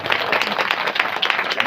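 A crowd at a kirtan gathering claps vigorously, a dense, continuous burst of many hands close by for under two seconds.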